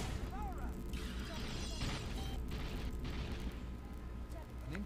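Cannon blasts and booming explosions in the MMO Aion during an obelisk siege, dense and loud throughout with overlapping bursts and game effects, while a player talks over the action.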